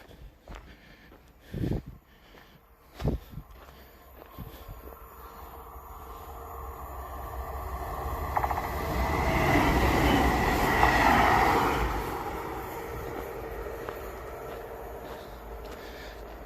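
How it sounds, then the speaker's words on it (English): A train rolls past outdoors, its rumble building from faint to a broad, loud roar that peaks and then eases away, with a few sharp knocks early on. "Oh, train."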